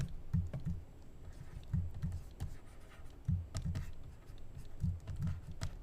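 A computer keyboard clicks with quick shortcut keystrokes, coming in short clustered bursts of taps with brief pauses between them, close and fairly quiet, while someone paints in Photoshop.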